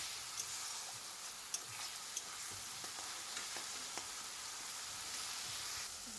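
A paste of onion, garlic and green chilli fries in a pan, a steady, soft hiss of sizzling oil with occasional faint pops and stirring ticks throughout.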